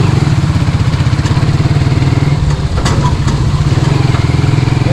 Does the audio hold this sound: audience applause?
no